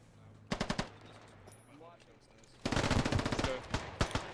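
Full-auto machine gun fire in the video game Squad: a short rattling burst, a quieter pause with faint voices, then a longer sustained loud burst followed by a few trailing shots.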